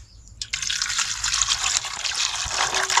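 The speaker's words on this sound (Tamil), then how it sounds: "கொஞ்சோண்டு பச்சை தண்ணி ஊற்றி ஆற வச்சுக்கிடுவோம்." Cold tap water pours over boiled quail eggs in a pot, a sudden splash and then a steady, fairly loud rushing stream that runs close by for about two and a half seconds.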